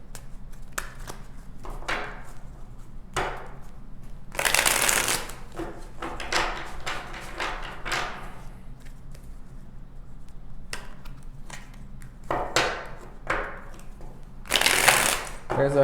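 Tarot cards being shuffled by hand in repeated crisp riffling bursts with short pauses between them, close and clear, with a person speaking at times.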